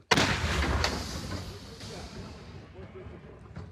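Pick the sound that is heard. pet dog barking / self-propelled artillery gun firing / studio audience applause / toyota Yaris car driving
self-propelled artillery gun firing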